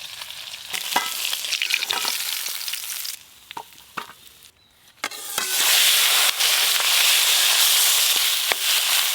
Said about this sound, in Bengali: তেল কইয়ের জন্য এদিকে কই মাছগুলো একদম হালকা করে ভাজা হয়ে গেছে, এবার তুলে নেব।